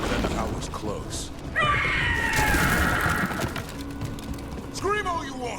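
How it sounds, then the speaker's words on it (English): A monster, the Gloomhowler, lets out a long, harsh, loud scream in the fantasy game Dragon Age: The Veilguard, rising and sustained over clashing combat noise, with another shrill cry near the end. "Scream all you want!"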